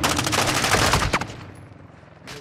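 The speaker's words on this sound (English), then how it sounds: "Taking effective fire!" Rapid automatic gunfire in Call of Duty DMZ, a dense close burst of shots filling the first second, then tapering into scattered distant reports and quieter ambience.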